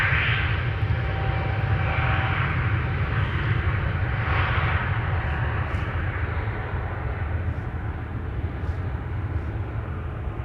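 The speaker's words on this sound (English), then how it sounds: "Aegean on the move, on its way to Athens. It is an A320neo." An Aegean Airbus A320neo jet moves off at Amsterdam Schiphol Airport, a steady, loud, deep engine roar and rumble holding for about ten seconds with no talk.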